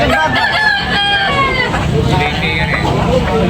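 A rooster crows loudly and close by at a rooster market in Tabunok, Talisay, Cebu, its long wavering call rising over a busy background of other birds and crowd murmur.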